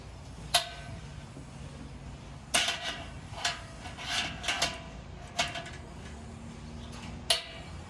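Hammer blows fall on metal during a Vanstone flange installation on pipe: seven or so sharp, ringing strikes at irregular intervals, some in quick pairs, close and clear over a quiet background.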